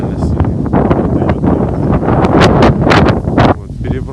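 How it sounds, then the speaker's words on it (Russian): Strong wind buffets the microphone at a carp-fishing spot, a loud rushing roar broken by sharp gusty bursts, with a voice faintly mixed in. "Ветер реально сильный."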